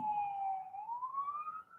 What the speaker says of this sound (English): Do you guys hear that ambulance?